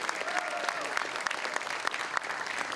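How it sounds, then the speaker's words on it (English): An audience at a mayor's State of the City address applauds steadily, a dense wash of many hands clapping at moderate distance, with faint voices mixed in. "give Jerry a round of applause, you guys."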